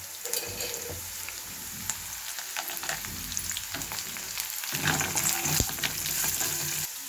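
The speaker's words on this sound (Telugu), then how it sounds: "అలాగే పల్లీలు వేస్తున్నాను కొద్దిగా" Peanuts crackle and sizzle in hot oil in a pan, a steady, close frying hiss with scattered pops and brief stirring scrapes.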